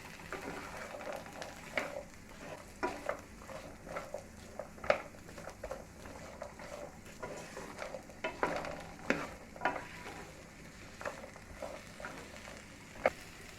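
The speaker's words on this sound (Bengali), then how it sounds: "টুকরো করে কাটা দুটো বড় সাইজের আলু, টুকরো করে কাটা একটি বড় সাইজের কাঁকরোল। একসাথে ফ্রাই করে নিচ্ছি।" Chopped potatoes and teasel gourd fry together in a pan with little oil, giving a soft, faint sizzle under intermittent scraping and clattering stirs, with birds faintly cooing in the background.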